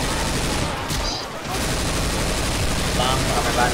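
Gunfire in a video game firing in dense bursts, loud and steady through most of the stretch with a brief lull near the start, while a voice talks underneath.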